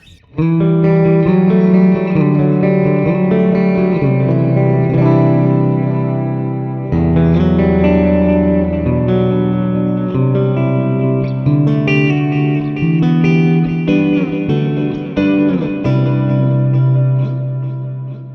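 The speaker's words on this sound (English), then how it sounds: "I have it with a stereo tape delay. I love the ping pong stuff. I got my spread maxed out. And I am also featuring the spring reverb." Electric guitar played through a stereo ping-pong tape delay with wide spread and spring reverb, Fender Studio Pro 8 software effects; sustained chords and notes ring out loud and continuous, echoes bouncing behind them, with no talking.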